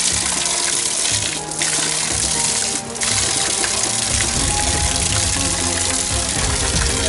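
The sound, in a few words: running water on a coastal trail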